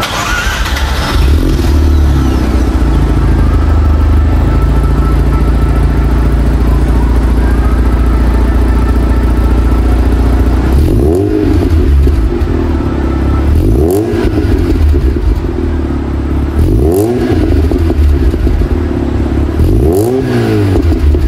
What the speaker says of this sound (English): now that is the sound of a naturally aspirated rotary motor